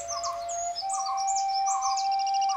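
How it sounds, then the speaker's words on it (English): Clear, melodious whistled phrases from a Malabar whistling thrush before sunrise, rising and falling notes repeated over a faint steady tone, close and distinct. "starting with the songs of the Malabar whistling thrush, singing well before sunrise with its wonderful whistles"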